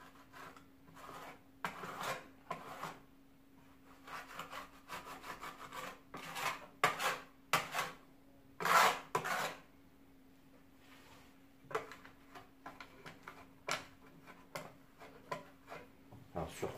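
Plaster being packed and smoothed into wall channels around an electrical flush box, heard as rhythmic scraping and rubbing strokes of a tool against the wall with a low steady hum in the background.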